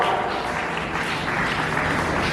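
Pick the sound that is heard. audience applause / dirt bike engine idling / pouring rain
audience applause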